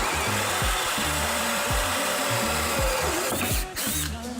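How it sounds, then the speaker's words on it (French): A power drill bores through a plywood board, its motor rising and falling in repeated short pulses of grinding bit against wood, loud and close, with a brief lull near the end. "Et une fois que votre mèche a traversé le bois, vous retournez votre planche, vous mettez votre mèche là et vous finissez votre trou."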